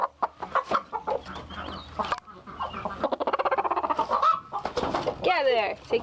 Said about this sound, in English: Look, we got some broody hens